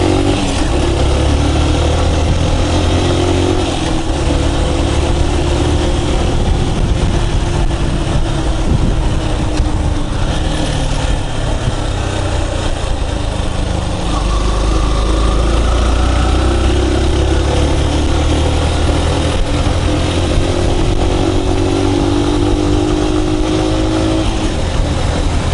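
Motorcycle engine droning continuously through a road ride, loud and close with steady wind rush and shifting engine pitch throughout.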